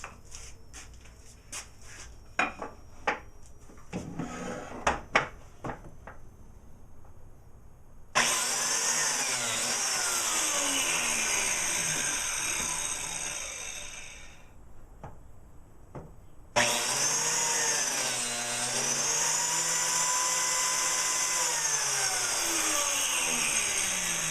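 A Porter-Cable biscuit joiner cuts slots in walnut and maple boards, heard as two loud bursts of whirring, spinning up and winding down, separated by quiet clicks and clatter of handling the wood.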